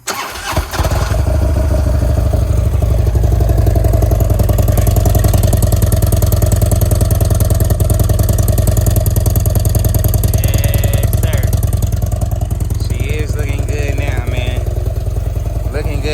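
Harley-Davidson CVO motorcycle cranking and firing up, then settling into a loud, close, steady rumbling idle that runs throughout, with someone talking over it near the end.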